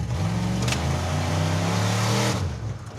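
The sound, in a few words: Mazdarati project car accelerating at full throttle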